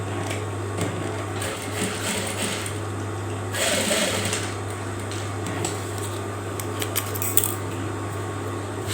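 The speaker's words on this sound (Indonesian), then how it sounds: "Sebelah juga kita jahit yang ini." A sewing machine runs steadily, stitching a pocket onto a hoodie, its motor hum continuous and close with a brief louder burst partway through.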